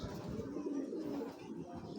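Pigeons, including a hen and a short-tailed colorful bird, coo softly and continuously in a loft, low murmuring calls overlapping over a steady indoor bed of sound.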